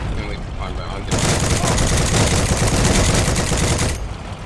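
Dense, loud automatic gunfire in the online shooter Heroes and Generals, a rapid unbroken burst lasting about three seconds, with quieter game sounds and a voice before and after.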